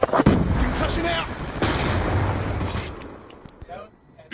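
A concussion grenade goes off in Black Ops 2 multiplayer, a loud close blast with rumbling aftermath that fades out, mixed with other gunfire and game noise.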